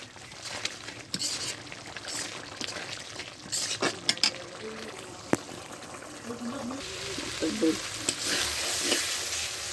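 Spice masala for golden chicken curry sautéing in a pan, a steady close sizzle and frying hiss with stirring scrapes and clatters, brief voice sounds mixed in.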